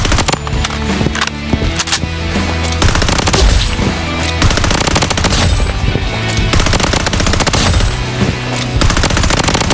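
Rapid automatic gunfire in the shooter game Blood Strike rattles loudly in continuous bursts, dense and close, with almost no gaps across the stretch.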